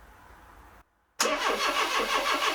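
A Renault Trafic with a swapped-in 2165cc engine cranks briefly, goes quiet for a moment, then fires up loudly and settles into a steady, close-up idle with a rhythmic pulse.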